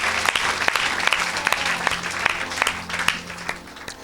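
An audience at an evangelical church healing service bursts into sustained applause, a dense wash of many hands clapping with sharp individual claps standing out, loud and continuous for several seconds.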